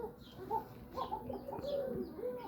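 Koka pigeons coo softly in a loft: a series of quiet, low, rolling coos with a few light chirps mixed in, faint and close.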